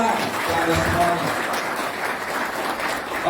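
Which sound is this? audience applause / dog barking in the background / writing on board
audience applause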